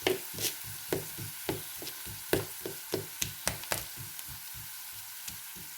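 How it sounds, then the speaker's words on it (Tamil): Samosa filling being cut into small pieces and mashed in a pan, a rapid run of sharp, close taps and chops against a low sizzling background, with no talking. "நான் குட்டி குட்டியாக அதை வெட்டிட்டு மசிக்க போகிறேன்"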